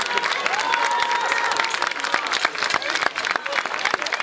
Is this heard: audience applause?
yes